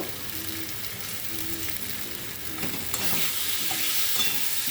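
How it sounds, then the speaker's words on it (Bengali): Potatoes sautéing in spiced oil in a pan for a prawn, potato and pointed gourd dish, giving a continuous soft sizzle with a few quiet stirring scrapes that grow slightly louder toward the end. "আলুগুলো দিয়ে একটু ভালো করে কষিয়ে নেব"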